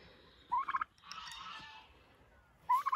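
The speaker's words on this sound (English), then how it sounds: "These are the turkeys." Two short bursts of rapid tom turkey gobbling on a farm, close and loud, separated by a brief hiss and quiet.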